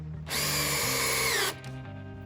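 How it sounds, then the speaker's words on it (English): A power drill bores a hole in wood for a drainage hole in a fence project. It gives one loud, close whine of about a second that rises in pitch and then stops sharply. "I'm going to drill some holes throughout here"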